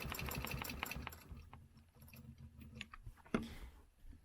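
A sewing machine stitches a quilting line along a stencil pattern, with bursts of rapid mechanical needle chatter that pause and restart, plus a single sharp clack near the end, fairly faint and close.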